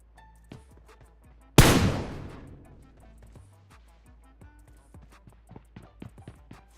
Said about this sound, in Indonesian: Nah, orang nembak pula tuh.